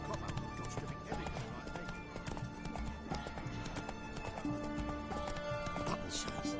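A horse galloping in the video game The Witcher 3, rapid hoof clip-clops with a snort or whinny, mixed with game ambience and faint character voices.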